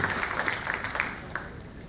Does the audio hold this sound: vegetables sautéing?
no